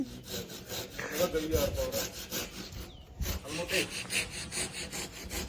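A hand saw cutting through wood outdoors, with rapid, rhythmic back-and-forth rasping strokes close up that run steadily throughout and stop briefly partway through.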